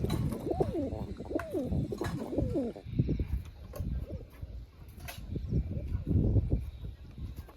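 Pigeons in a pigeon loft coo in repeated soft, throaty bursts close by, followed by shuffling and rustling with a few more low coos.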